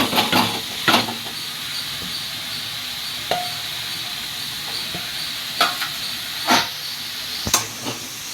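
Bitter gourd pieces frying in a pan with chana dal, a steady broad sizzle and hiss running throughout, broken by several sharp scraping clatters of a spatula stirring against the pan, close and alone with no talk.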